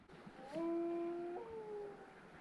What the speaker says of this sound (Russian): Напугала нас собака.